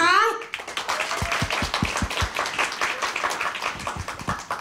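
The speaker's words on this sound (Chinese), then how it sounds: "让我们以热烈的掌声欢迎我们的讲师洪坤山出场" An audience breaks into warm applause to welcome a speaker at a training lecture, steady clapping from many hands sustained for several seconds after a brief announcing voice at the start.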